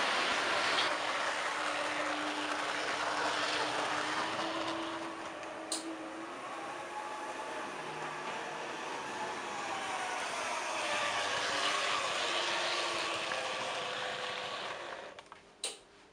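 A Tri-ang Blue Pullman model train runs along its track with a continuous whirring motor hum and rail rumble. The sound swells and recedes as it circles, with a couple of sharp clicks near the end.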